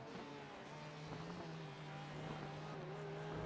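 A Mercedes GT3 race car in a racing video game at Le Mans drones with a low, buzzy engine note that rises slightly in pitch, heard steadily and fairly faint.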